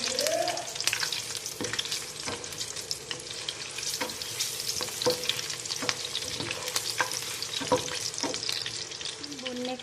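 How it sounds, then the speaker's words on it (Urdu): Green chillies, stems removed and slit down the middle, frying with chicken pickle in a pan: a steady soft sizzle with frequent scraping stirs and clicks of a spoon, close and moderately quiet, with no speech. "ان کو بھی ہم 1-آدھا منٹ بھون لیں گے۔"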